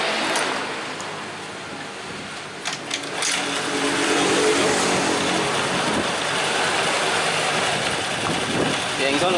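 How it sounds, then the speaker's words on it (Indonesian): Honda Vario 110 carburetor scooter, hard to start, kicked over and then idling with a steady close buzzing putter while someone talks over it. "Engkol langsung hidup ya, hidup."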